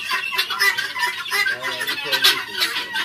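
Chickens on a poultry farm cluck steadily and close by, with overlapping calls from several birds forming a busy, continuous chatter.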